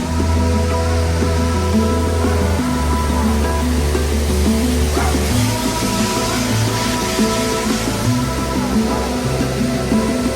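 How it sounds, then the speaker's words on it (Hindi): A powerful class 5 waterfall in Jasper in the Canadian Rockies roars as a loud, steady rush of falling water, with a low hum running underneath throughout. "अब सिर्फ आप वाटरफॉल की आवाज सुनिए।"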